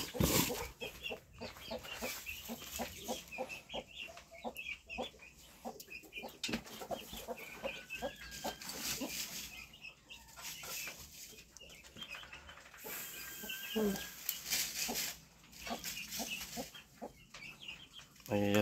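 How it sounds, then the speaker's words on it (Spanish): Hens and a female turkey clucking steadily on a farm where they lay eggs, a dense, continuous chatter of short calls at moderate distance, no voices over it. "De este lado pusieron hoy dos gallinas y una pava."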